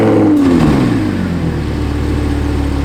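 A warmed-up supercar engine revs hard up close, a loud, aggressive rising roar that settles into a sustained deep rumble, with no other sounds.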